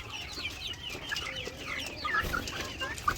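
Hens cluck in a farm flock, with repeated soft, close calls and a few sharper squawks over a low background murmur.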